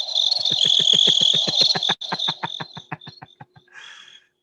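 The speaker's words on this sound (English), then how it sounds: "I got my crickets button" A crickets chirping sound effect is played from a soundboard button during a sales phone session, giving a steady, loud run of rapid chirps that slows and thins out before stopping.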